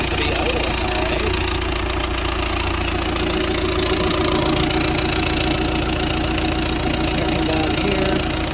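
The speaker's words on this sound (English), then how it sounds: "Seems to be idling alright." A sailboat's inboard engine idles steadily and loudly nearby, a rough continuous knocking rumble with a voice speaking over it.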